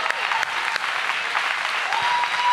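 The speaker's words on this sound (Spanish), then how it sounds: "un aplauso para Tucán Guzmán" A crowd applauds a comedian named Tucán Guzmán at a comedy show, steady dense clapping that holds through the whole stretch at an even level, with faint voices mixed in.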